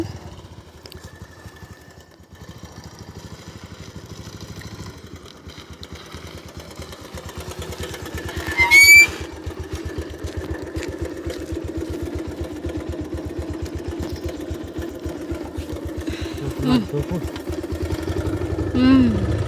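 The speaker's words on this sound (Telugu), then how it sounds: "ఇంకైతే మేము బైక్ కూడా స్టార్ట్ చేసుకునేసినాం ఇంటికి వెళ్దామని చెప్పేసి తిప్పుకుంటున్నాడు మా ఆయన" A motorcycle engine idles steadily with a low rumbling putter throughout, nearby, with a brief louder clatter midway and faint voices in the background.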